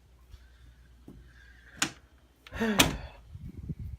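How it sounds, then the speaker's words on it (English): A room door swings shut, giving a sharp knock about halfway through, then a heavier thud and rattle as it closes firmly, heard alone nearby with no talking. "let me close the door"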